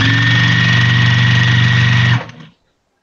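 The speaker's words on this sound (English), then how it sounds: "Now we can sew again." A sewing machine stitching a baby rag quilt gives a steady, close mechanical hum and whir for about two seconds, then winds down and stops, with no talking.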